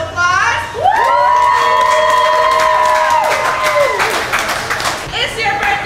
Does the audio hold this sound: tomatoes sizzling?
no